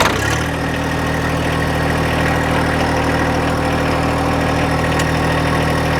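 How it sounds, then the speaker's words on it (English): A John Deere 1025R compact utility tractor with a factory-installed cab: the engine catches at the start and then settles into a loud, steady, close-up diesel idle with a continuous low throb. "Go ahead and turn the key and start the unit up."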